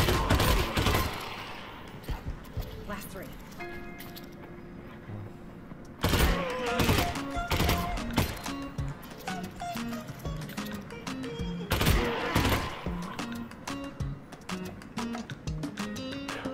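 Gunfire from the VR horror shooter Half-Life: Alyx comes in sharp, loud bursts roughly every few seconds. Clattering game effects and tonal background sounds fill the gaps between the shots.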